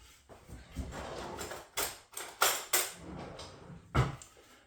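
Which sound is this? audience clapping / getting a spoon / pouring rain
getting a spoon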